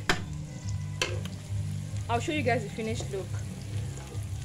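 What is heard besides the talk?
rice boiling in chicken stock for fried rice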